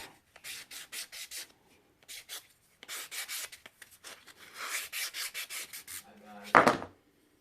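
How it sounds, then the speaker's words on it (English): Short repeated rasping strokes of sanding along the edges of a miniature wooden ironing board top, close and fairly quiet, in rhythmic bursts with brief pauses and a sharper knock near the end. "you want to go ahead and sand the edges of your ironing board top"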